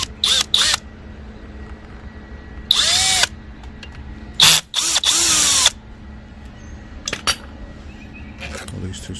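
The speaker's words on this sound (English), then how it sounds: "we're going to take this intake cover off of the carburetor. I'm using a T25." A power driver with a T25 bit whirs in several short bursts while backing screws out of a 2-stroke carburetor intake cover, with faint tool clinks between runs.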